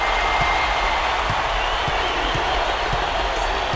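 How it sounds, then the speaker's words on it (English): A packed basketball arena crowd roars in a loud, sustained wall of cheering and applause after a big shot, rock-concert intensity holding steady throughout with no pause. "Listen to this crowd. That sounds like a rock concert in here."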